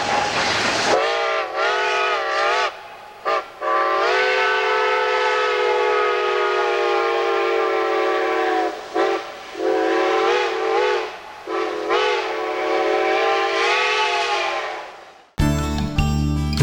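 A Reading Blue Mountain & Northern freight train from 1990–1991 sounds its whistle in long, loud, steady blasts broken by a few brief gaps, with a final short clipped burst at the end.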